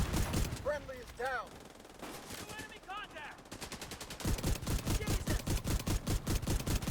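Rapid bursts of automatic gunfire from a video game, first broken up by voices talking over it, then a steady loud stream of shots through the second half.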